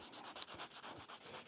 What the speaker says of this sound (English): We got to grab the sandpaper.